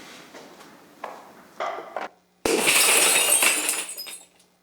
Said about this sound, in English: you heard the effect there, the smashing glass